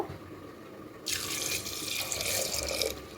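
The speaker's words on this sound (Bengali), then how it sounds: "এখানে সামান্য একটু জল দেব" Water pours from a tap into a pot of cut potatoes for chana dal, a steady close rushing stream starting after a second of quiet and running continuously to the end.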